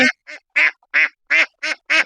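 Domestic duck caught in a village yard in winter, quacking seven times in a steady, evenly spaced series, loud and close with brief silences between calls.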